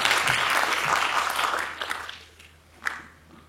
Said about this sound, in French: Un tonnerre d'applaudissements pour Alain Brunon